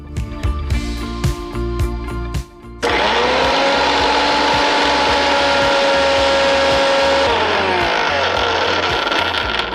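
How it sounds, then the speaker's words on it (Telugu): A mixer grinder starts up loudly and runs with a steady high whine while blending black beans, its motor pitch shifting slightly near the end, preceded by a few seconds of kitchen clatter. "ముందుగా మనము బ్లాక్ బీన్స్ మిక్సీ పట్టేద్దాం"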